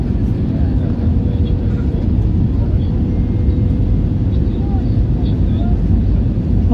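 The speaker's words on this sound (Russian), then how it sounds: "Вот уже заходит на аэродром." Inside the cabin of an Airbus A321 on approach to Antalya airport, a steady, loud low engine and airflow rumble runs unbroken, with people talking over it.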